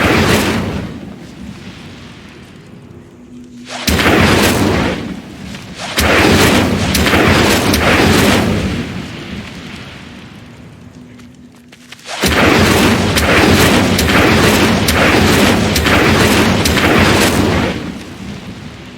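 Incendio fire spell bursts in Hogwarts Legacy, heard as loud, roaring blasts of fiery rumble, one surge after another separated by short quieter gaps, with no talking.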